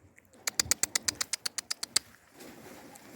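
A pigeon claps its wings in a quick run of about a dozen sharp, evenly spaced flaps, close by, followed by a soft rustle and faint cooing.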